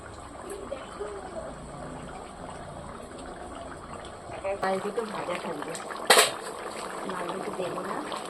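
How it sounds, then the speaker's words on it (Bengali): Fish pieces going one by one into a simmering fish curry in a pot, village-style cooking: a steady soft bubble with a sharp splash partway through, heard beneath a person talking. "একে একে মাছ দিয়ে দিচ্ছি"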